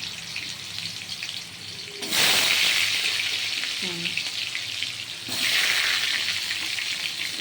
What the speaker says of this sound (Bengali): দেখুন এই আলুগুলো আগে আমি লাল করে ভেজে নেব